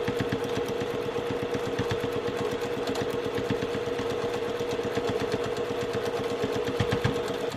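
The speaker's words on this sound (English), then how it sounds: "I'm just stitching right in that ditch, right where the seam, my lace, and my bottom border matches" A sewing machine stitches steadily through a placemat's seam, lace and bottom border, a fast even mechanical chatter running nonstop at close range.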